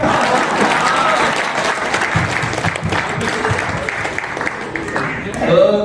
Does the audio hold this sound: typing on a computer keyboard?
no